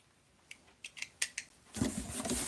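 Scissors snip through a flap of a large cardboard box in several quick, close cuts, then a louder, steadier rustle of cardboard as the flap comes away.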